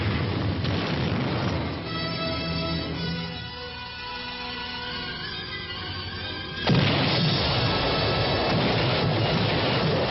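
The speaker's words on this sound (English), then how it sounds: "First, heavy preparatory fire to soften up the objective." Heavy preparatory artillery fire and explosions in archival war footage, a continuous roar of rumbling blasts with a sharper, louder burst partway through.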